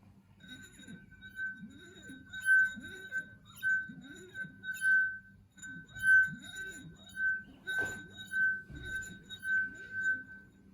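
Wet fingers rub the rim of a drinking glass partly filled with water, drawing out a steady, pure ringing tone that swells and fades in repeated waves, faint and close, with a few soft clinks and low murmurs beneath.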